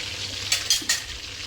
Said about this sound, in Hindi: यहाँ पे चिकन मेरा फ्राई हो चुका है ऑलमोस्ट।